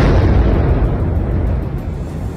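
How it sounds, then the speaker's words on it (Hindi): A heavy, rumbling drone-strike explosion in Kyiv with a sustained low roar that slowly fades, loud and close, with no voices. "वीडियो में पहले धमाके की आवाज सुनाई दी"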